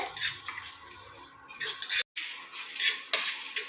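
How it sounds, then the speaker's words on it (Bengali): Spices dry-roasting in a dry wok over low heat without oil, stirred with a utensil that scrapes and clinks against the metal in quick, close strokes; a brief silent gap falls midway. "এই শুকনো কড়াতে আমি ভেজে নেব, তেলের ব্যবহার করার দরকার নেই।"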